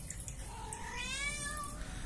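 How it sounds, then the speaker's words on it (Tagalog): A house cat in a Manila home gives a single drawn-out meow with a rising and falling pitch, close and fairly clear over a steady background hiss, with no talking. "Ito, pusa nila James guys"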